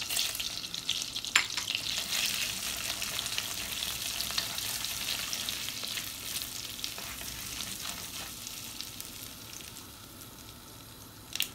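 Tempering spices frying in butter and oil in a pot, a loud steady sizzle with occasional stirring clinks that gradually settles quieter toward the end.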